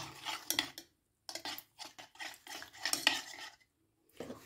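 A spoon stirs paneer batter with water in a bowl, producing close, quick scraping and clinking strokes in irregular bursts separated by short pauses, with no talking.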